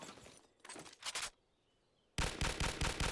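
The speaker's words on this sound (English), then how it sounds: "next one we have the G3. It's semi-automatic." G3 semi-automatic rifle fired in Garry's Mod, a few closely spaced loud bursts of shots separated by a short quiet gap, then a final dense volley, sharp and near.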